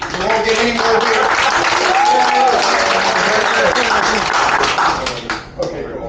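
An audience on a cruise ship brewery tour claps for a brewery assistant carrying out a pitcher of beer. The applause is loud and fills several seconds, with voices mixed in before it fades.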